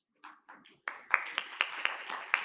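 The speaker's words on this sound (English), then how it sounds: "Please give a big round of applause for sir." Audience at a government technical session on the care economy breaks into applause, a few scattered hand claps at first, then a brief burst of clapping with sharp individual claps standing out in a small hall.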